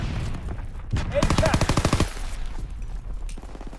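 A rapid burst of automatic suppressing gunfire in a WW2 shooter set in the Ardennes, a tight string of sharp shots lasting about a second, loud and close amid quieter battle noise.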